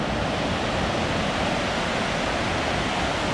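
The Rockaway River rushes beneath an old railroad trestle in New Jersey, a steady, dense broadband roar of flowing water that holds unchanged and fairly loud throughout, with no voices.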